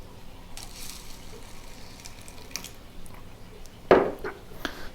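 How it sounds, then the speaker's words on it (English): Water poured onto fertilizer particles gives a short splashing pour near the end, following quiet handling and light rustling noises. "over here we have the particles. We're going to pour some water in them."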